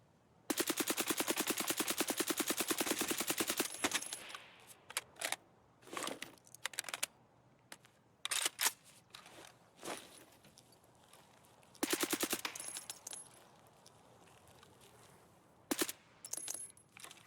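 Automatic rifle fire in Escape from Tarkov: loud sustained bursts alternating with single shots and short volleys, some sharp and close, others quieter, spread across a tense firefight with no talk.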